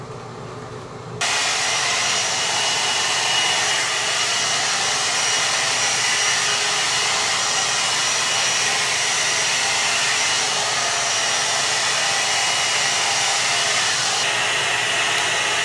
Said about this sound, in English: This is a blow dryer for your hair, but it's a comb.